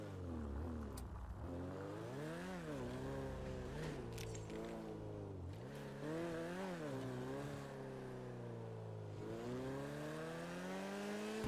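A car fitted with an R35 engine on a test drive, steady engine drone rising and falling through repeated revs and gear changes, close and continuous without pause.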